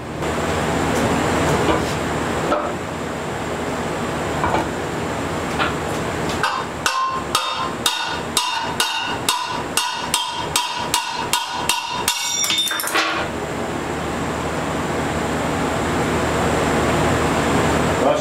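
A hammer taps out a welded motorcycle rim. About a dozen loud metallic strikes land in a steady, even rhythm midway through, over constant background noise, with no talk.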